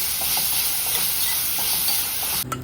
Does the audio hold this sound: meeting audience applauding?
no